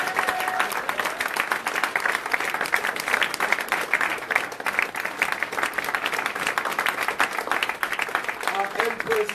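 Audience applause at a mosque gathering in Europe, steady dense clapping throughout with crowd noise and some voices mixed in.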